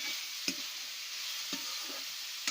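Cabbage fries in hot oil with a steady, bright sizzle. Three soft taps of a utensil sound at intervals, close by, with no talking.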